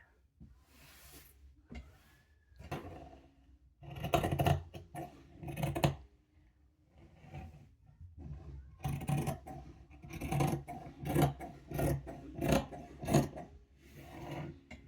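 Scissors cut fabric for a princess dart bustier, giving slow, deliberate crunching snips and rustling cloth in uneven bursts, close and moderately loud, with a quieter pause partway through.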